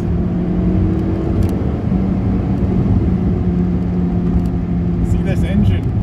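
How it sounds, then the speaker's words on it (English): A Mk3 Toyota MR2 Roadster engine drones loudly from inside the cabin as it revs to 5,000–6,000 rpm on a straight road, holding a steady hum with a voice talking over it now and then. "Here's a wee bit of straight road, just rev it out."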